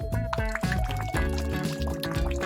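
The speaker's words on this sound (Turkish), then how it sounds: "Şimdi sütü döküyorum." Milk poured for breakfast in an animated household scene, a short close liquid pour with dribbling and filling sounds layered over background music.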